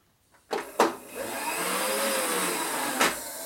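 A milling machine resurfaces the warped cylinder head of a 1957 Harley-Davidson Panhead, spinning at around 3,000 RPM. It gives a steady, close whirring drone, with sharp clunks as it starts and another knock near the end.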